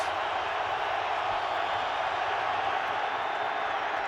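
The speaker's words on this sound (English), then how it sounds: "Crowd trying to help the defense." An NFL stadium crowd roars during a 2007 game on a third-down defensive play, a steady broad wash of distant crowd noise with no distinct voices.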